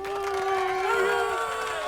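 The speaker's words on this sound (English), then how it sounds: "I open the temple door and there's a sitcom audience clapping." A short burst of sitcom studio audience cheering and whooping with some clapping, moderately loud and continuous.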